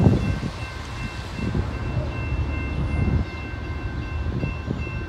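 A CSX northbound mixed manifest freight train rumbles past steadily with low, continuous wheel and engine noise, a faint high tonal whine running through.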